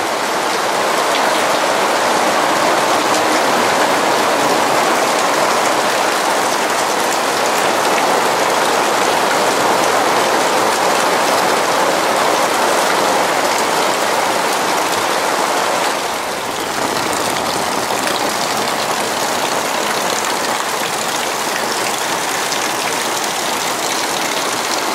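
Heavy summer thunderstorm downpour at the ocean, a loud, steady roar of dense rain hissing on surfaces for the whole stretch, with a brief dip midway and no voices.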